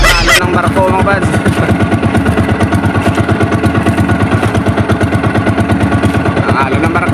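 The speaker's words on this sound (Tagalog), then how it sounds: "takbo namin medyo mahina kasi yung aming makina medyo pugot-pot" A fishing boat's engine runs loudly and unevenly close by, with a rapid chugging pulse that sputters and keeps a low throbbing rhythm throughout, a voice briefly heard at the start.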